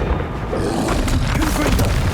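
An Incendio fire spell in the wizarding game Hogwarts Legacy bursts out as a deep whooshing boom that swells and roars loudly for about two seconds amid game sounds.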